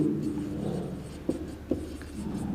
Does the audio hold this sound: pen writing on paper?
yes